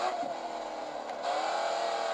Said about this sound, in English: You're carrying good speed into the drift.